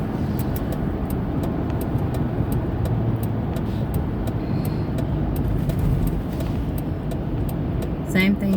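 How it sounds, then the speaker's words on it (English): Road traffic rumbles in a steady, loud, low drone, like a vehicle moving along a busy roadway, with muffled talking present. "I don't need this traffic right now."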